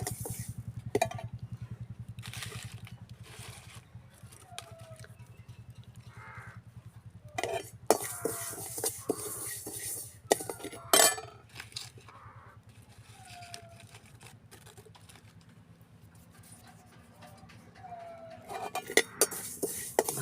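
Rice flour is roasted in a pan for rice flour laddu in a village kitchen, with irregular scraping and metallic clinks from stirring. Crows caw in the background.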